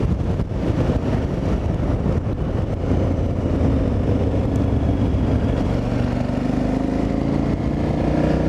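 A motorcycle roars steadily while being ridden along a road, its low engine drone mixed with heavy, constant wind buffeting the microphone throughout.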